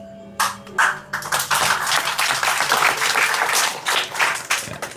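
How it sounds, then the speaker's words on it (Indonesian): An audience at a talk claps together in a burst that starts abruptly, swells into dense, bright applause for several seconds, then thins out toward the end. "Itu tepuk tangannya tuh ikut tepuk tangan"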